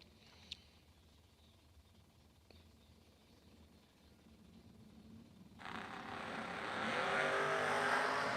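Drag racing door cars launch down the track in round one of a bracket race, a broad roaring engine blast swelling suddenly mid-clip and growing louder toward the end after quieter, distant rumble.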